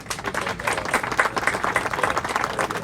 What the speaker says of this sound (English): we want to clap it up for you real quick